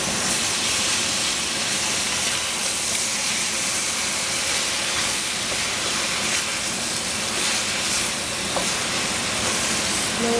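Eggplant cooking in a pan for an angel hair pasta dish with cabbage and minced pork, giving a steady, dense hiss of sizzling and steam that runs unbroken at an even level throughout.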